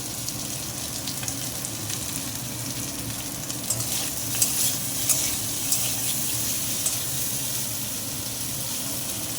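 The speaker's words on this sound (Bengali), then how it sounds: "আলুটা ভালো করে ভেজে নেব, ভাজা ভাজা হোক।" Potatoes frying in a pan for panir posto give a steady, close sizzle with faint scraping and stirring, continuous throughout with no voices.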